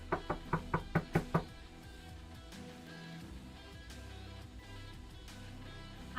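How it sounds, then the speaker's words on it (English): Knocking on a door during a tabletop role-playing session: a quick run of about six sharp, evenly spaced raps up front, then fading into quiet room tone with faint background movement. "I ignore the door knocking."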